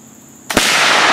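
A muzzleloading rifle fires once at a target during an outdoor woods walk shoot, a sudden sharp close blast that leaves a long, bright rushing tail.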